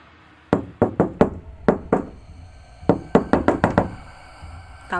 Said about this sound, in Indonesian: suara ketukan itu terdengar lagi